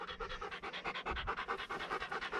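A quail-hunting dog pants rapidly and steadily close by, breathing in a quick, even rhythm with no talking.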